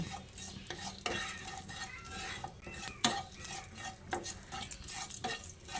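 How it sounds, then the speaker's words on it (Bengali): Whole spices and asafoetida frying in hot oil for a tempering, with a soft sizzle under repeated scraping and clinking of a spoon stirring in the pan, close and without talk. "এবার ফোড়নটাকে আমি কিছুক্ষণ ভেজে নিচ্ছি।"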